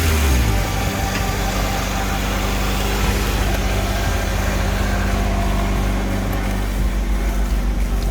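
An Acura's engine running steadily near the microphone, a loud, continuous low rumble that holds an even idle throughout with slight variation in pitch.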